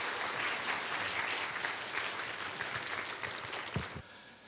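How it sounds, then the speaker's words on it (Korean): A church congregation applauds at a revival meeting, a dense, steady wash of many hands clapping that fills the room for about four seconds, then drops off sharply to quiet. "오늘도 우리 박수로 함께 맞이하는 시간 갖도록 하겠습니다"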